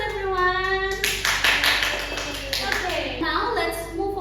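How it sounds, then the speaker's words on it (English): Classmates applaud in a classroom during a practice English lesson, a burst of clapping that starts about a second in, with a voice speaking before it and over the clapping. "Give applause, everyone"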